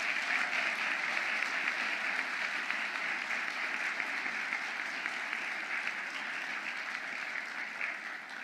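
Audience at the 2026 Governor's Arts Awards gives the honorees a sustained, full round of applause, dense and even throughout, easing off only slightly at the end.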